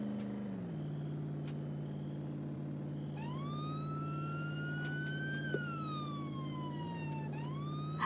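A video game police car siren wails in long rising and falling sweeps over a steady engine drone, loud and close, with no voices.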